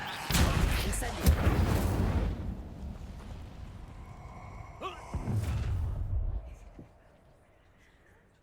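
A fiery Incendio spell erupting in the video game Hogwarts Legacy, with a loud roaring blast that fades over a few seconds and a second burst further on, while game voices speak through it.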